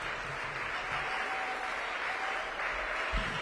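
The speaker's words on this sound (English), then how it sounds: "And Ms. Spain Thomas, I want to give you a round of applause and all the faculty and staff" Applause for the faculty and staff at St. Patrick's Episcopal Day School, a steady, fairly soft wash of clapping from an audience, continuous throughout with a faint tone running beneath it.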